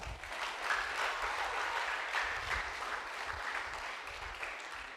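A church congregation claps together: a continuous, moderately loud patter of many hands runs throughout the stretch, fairly even with slight swells.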